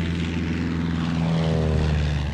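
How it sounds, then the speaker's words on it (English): Propeller warplanes of the US force drone steadily overhead on an attack run against targets on the Japanese mainland, a loud continuous engine roar with no speech. "US planes launch another attack against targets on the Japanese mainland"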